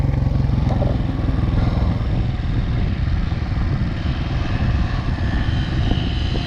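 A KTM 500 enduro dirt bike engine runs loud and close, a rough, pulsing single-cylinder drone that holds steady throughout without anyone talking.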